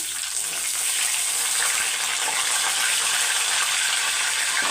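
Curry leaves frying in hot oil in a home kitchen, a steady, continuous loud sizzle and hiss with no pauses, no talking over it.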